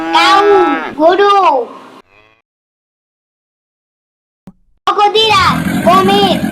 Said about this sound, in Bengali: কাউ, গরু,